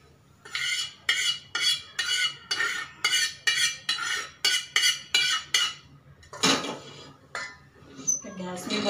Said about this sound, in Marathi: तवा तापल्यामुळे पटापट पीठ भाजतं।